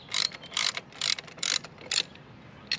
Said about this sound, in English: The ratchet wrench required surprisingly strong force.